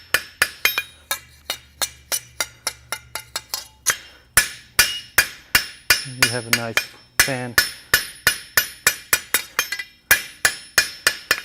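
Rapid metallic hammer blows ring out as hot steel is spread on an anvil, a steady rhythm of bright clanging strikes with brief pauses and a short voice mid-clip.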